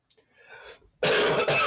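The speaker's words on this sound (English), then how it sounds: "still trying to get over this cough" A brief soft breath, then a loud, harsh cough bursts out close by in two quick, rough pushes.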